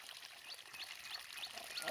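Water pours steadily from a small electric motor pump drawing from a well, a soft continuous trickling stream with faint bird chirps scattered over it, heard fairly quietly and alone.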